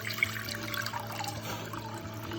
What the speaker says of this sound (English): So we're gonna add our water to a hot pot.